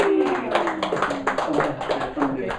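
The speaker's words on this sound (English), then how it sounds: "Everybody clap for" An audience at a talk on compassion at a sanctuary claps in a brief, moderate burst of scattered claps, with voices talking over it.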